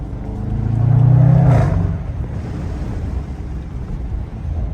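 A McLaren 570S cruising downtown, its engine swelling to a brief, louder rumble before settling into a steady drone with wind noise, heard from inside or close by.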